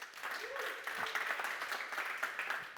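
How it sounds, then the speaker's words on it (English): Audience applause at a tech conference on load testing as a speaker is welcomed on stage, a steady wash of many hands clapping throughout, moderately loud, with a brief voice murmuring underneath. "Please join me on stage and give a warm round of applause"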